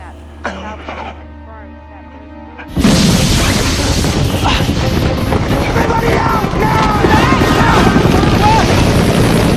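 A troubled helicopter in a film scene, quiet at first beneath faint tones, then a sudden loud burst into a dense, sustained roar of rotor and engine noise with crashing clatter.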